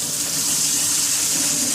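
Tap water runs steadily into a bowl while rice is rinsed, making a continuous close hiss and splash with no talk.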